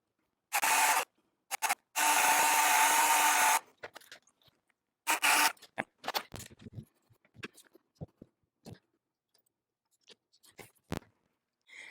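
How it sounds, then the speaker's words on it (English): Drilling a hole through an electrical subpanel enclosure for a Square D QO48M60DSGP generator transfer switch, with two loud close drill bursts followed by scattered scraping, rubbing and clicking handling noises. "I'm going to drill another hole to the side so I can run a jumper across"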